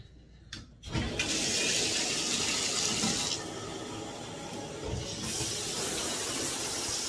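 Bathroom tap runs water to warm up a shower, a loud steady gush starting with a sharp turn-on about one second in, then a continuous rushing hiss that shifts in level midway without pausing.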